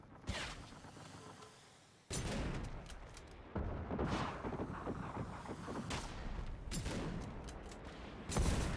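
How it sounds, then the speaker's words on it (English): Heavy booming shots from an artillery rifle in the video game Generation Zero ring out in several loud blasts, each followed by a long rumbling decay. "Oh, actually, I can just use my artillery rifle."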